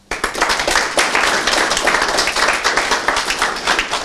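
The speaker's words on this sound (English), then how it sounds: "So a big round of applause for them." A small group claps loudly and briskly for a few seconds, close and uneven with individual hand claps audible, starting abruptly after a brief silence.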